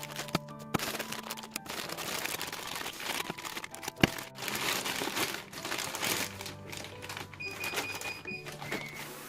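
A thin plastic liner inside an indoor herb planter pot crinkles and rustles steadily as it is handled and cut, with a few sharp snips and clicks, all close up and with no talking.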